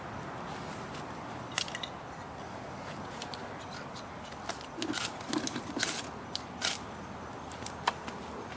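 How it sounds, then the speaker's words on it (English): A knife cuts open a fire starter tube with a series of close, sharp cutting and crunching snaps, some in quick clusters and others spaced apart, over a quiet outdoor background. "got my knife, cut the tube open"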